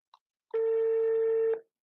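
A telephone line tone while dialing a taxi company, one steady unbroken tone lasting about a second, fairly loud and alone, preceded by a brief faint blip.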